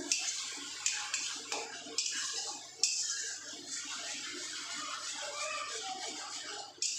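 Water poured into a cooking pan over soaked mustard paste for a bata fish jhal curry, soft splashing and swishing with a few sharper clinks of a utensil as it is mixed, quiet and close.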